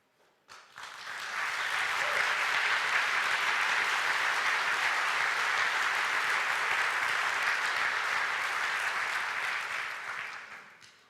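A Lutheran church congregation applauds during an ELCA synod gathering, with clapping that swells quickly, holds as a dense, even wave for several seconds and then fades away.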